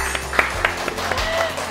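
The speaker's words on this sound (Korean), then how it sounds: "여러분, 참지 마시고 박수 쳐주세요." An audience at a Korean variety show welcomes a guest with clapping: a short burst of scattered, fairly close handclaps in an uneven rhythm.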